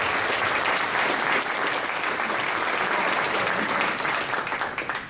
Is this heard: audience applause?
yes